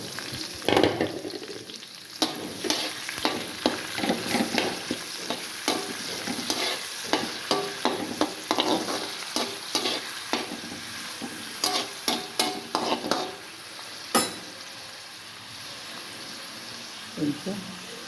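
Onions, tomatoes and bitter gourd fry in a pan as a spoon stirs them, repeated scraping strokes over a steady close sizzle, rhythmic and uneven throughout.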